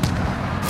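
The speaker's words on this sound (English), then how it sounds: "Cracked him with a grenade." A grenade goes off in the video game Warzone as one loud, close, booming blast. It fills the whole brief moment with heavy rumble and crackling noise.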